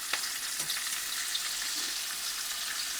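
Bacon strips frying in a pan, a steady close hiss and crackle that holds evenly throughout, with a few small pops and no voices.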